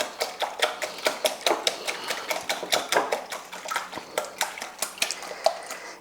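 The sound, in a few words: whisking an egg for yeast pancakes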